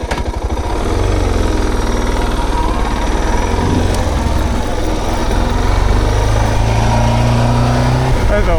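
A Suzuki DR650 single-cylinder motorcycle rides along a road, its engine thumping loud and close as it picks up speed and holds a steady pull, with brief talk at the start.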